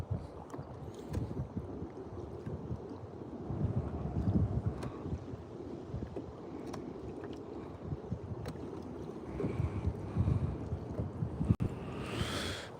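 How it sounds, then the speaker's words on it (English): Steady outdoor wind on a cloudy day at a fishing spot, buffeting the microphone, a low rumbling roar throughout with occasional gusts, no voices. "Pretty windy out here right now."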